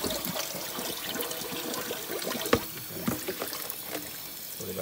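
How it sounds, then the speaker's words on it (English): Running tap water rinsing a raw Thanksgiving turkey after a vinegar soak, a steady close splashing trickle with a few sharper drips and knocks, no talking. "you still have to rinse it off again with the water"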